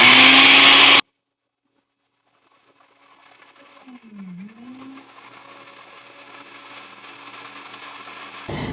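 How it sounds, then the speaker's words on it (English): A blender on its ice-crush setting grinds dry sugar into powder, starting after a loud burst then near silence, its motor whirring up with a pitch dip and building into a steady, rising grinding roar. "So I use this blender"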